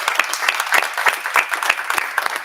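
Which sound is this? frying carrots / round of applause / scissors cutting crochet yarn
round of applause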